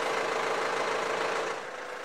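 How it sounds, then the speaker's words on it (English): The engine of a Vermeer brush chipper runs at a steady, loud idle with a dense mechanical roar, then drops slightly in level near the end. "Start up the engine following the instructions in the operator's manual for your particular machine."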